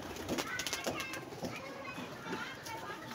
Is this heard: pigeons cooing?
yes